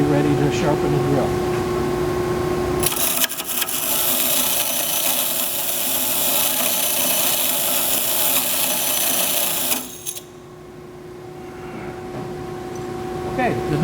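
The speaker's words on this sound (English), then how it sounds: "wheel dresser. The idea of that is to get a nice flat surface." A wheel dresser grinds across a spinning bench grinding wheel, flattening it before drill sharpening: a harsh, loud scraping hiss for about seven seconds over the steady motor hum, which carries on alone after the dressing stops.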